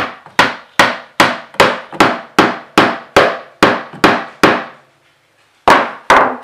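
Loud, evenly spaced hammer strikes on a metal punch making a hole while installing closet doors, about a dozen ringing taps with a brief pause before two final blows.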